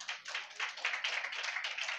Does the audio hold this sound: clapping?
yes